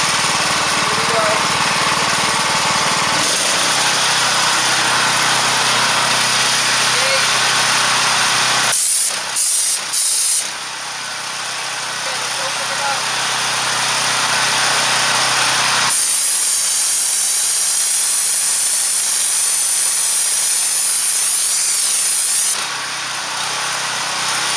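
A pressure washer at about 3,800–4,200 PSI drives blasting media from a hopper through a hose for pool tile cleaning, a loud steady hiss and engine drone with brief breaks and surges.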